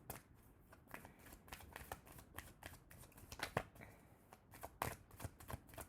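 Tarot cards being shuffled by hand, a soft, quick run of riffling and flicking card sounds, quiet and close, with slightly sharper snaps near the end.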